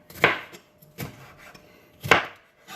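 A knife chops on a wooden cutting board in three distinct strokes about a second apart, close and clear with nothing else in the background.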